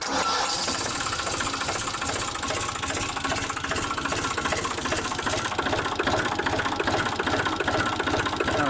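A Sellick Piggyback forklift engine, fitted with a new battery and started in cold weather, catches and runs with a rapid, steady mechanical clatter and knocking, close and loud the whole time.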